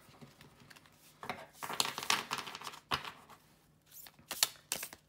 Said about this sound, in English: I'm going to give it a bit of a shuffle.